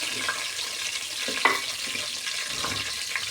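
Cumin seeds frying in hot oil for chicken biryani: a steady, hissing sizzle throughout, with a few soft clinks and stirring taps, close and moderately loud.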